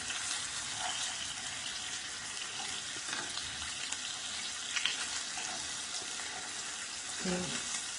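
Kielbasa bites frying and browning in a pan give off a steady, fairly quiet sizzle, broken by a few light clinks and scrapes.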